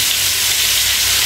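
Hot used cooking oil sizzles steadily in a pan while oncom is being cooked, a loud, even frying hiss with no pauses and no voices.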